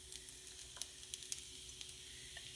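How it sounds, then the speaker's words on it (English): Egg cooking in a pan over low-medium heat for fried rice, giving a faint, steady sizzle with small scattered pops and crackles. "So you want to cook the egg right in the center."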